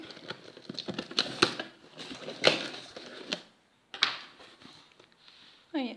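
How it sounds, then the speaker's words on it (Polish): A cosmetics parcel from Oriflame is opened up close, with crinkling, tearing and handling clatter in uneven bursts, a brief silent gap and a final rustle. "Otwieramy paczkę."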